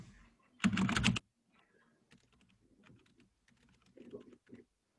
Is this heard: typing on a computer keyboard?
yes